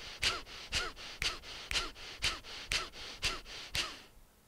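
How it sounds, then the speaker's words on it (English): Bellows breath in a Bhastrika pranayama session: about nine rapid, forceful breath bursts in a steady rhythm, loud and close, with no talking. "Now we continue with rapid inhalations, rapid exhalations to the count of six."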